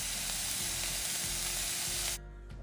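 Preserved mustard greens stir-fry in a wok with a loud, continuous sizzle and faint stirring scrapes, then the frying sound cuts off abruptly near the end.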